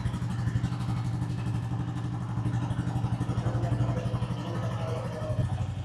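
A Royal Enfield 350 cc motorcycle idles, its exhaust thumping in a steady, even low rhythm that stays close and loud throughout with a faint mechanical clatter on top.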